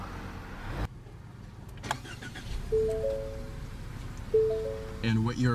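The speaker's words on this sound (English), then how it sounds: "And what you're hearing there is a 2-liter turbocharged inline 4-cylinder." A Ford Fusion's 2-liter turbocharged inline four-cylinder starts up close by: a short crank burst, then a steady low engine idle, with brief electronic chime tones sounding over it.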